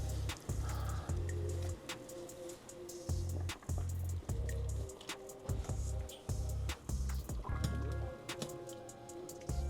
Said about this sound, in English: Wet the fabric, squeeze out any excess water, and add it to the dye bath.